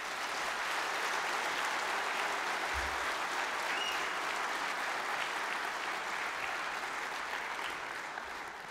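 Conference audience applauding a welcomed union delegate, a dense, even wash of clapping held steady throughout without talk.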